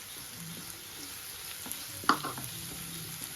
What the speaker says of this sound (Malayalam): ഇനി ഇതിനകത്തോട്ട് കുറച്ച് കറിവേപ്പില ഇട്ട് കൊടുക്കാം